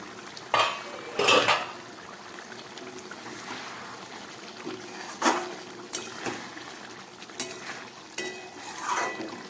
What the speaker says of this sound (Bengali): ঢাকাটা খুলছি